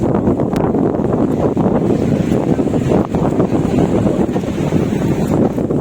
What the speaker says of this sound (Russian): Ветер вообще страшный дует, до сих пор ветер.